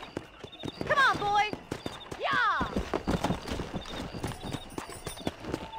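Horses in a Red Dead Redemption race, a galloping clatter of hooves with loud whinnies near the start, mixed with game sounds and talk.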